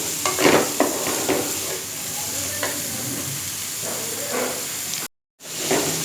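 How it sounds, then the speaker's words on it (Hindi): Capsicum, cabbage and spring onion stir-fried on high heat: a loud continuous sizzle with repeated spatula scrapes and tosses up close, broken by a brief dropout near the end, no voices. "शिमला मिर्च, बंद गोभी और जो हमने हरी प्याज डाली थी इसे हमने तेज़ आंच पर सिर्फ 2 मिनट के लिए फ्राई किया था"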